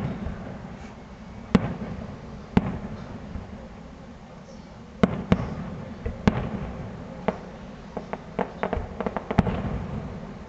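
A fireworks display finale over Powell River, British Columbia, with sharp bursts and pops crackling at irregular intervals, some distant and some louder, over a steady low rumble of the crowd and surroundings.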